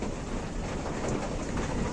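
Low thunder rumbling amid a rain and hailstorm, heard as a continuous dense roar of rainfall with deep rolling energy underneath, steady and loud for the full two seconds without voices.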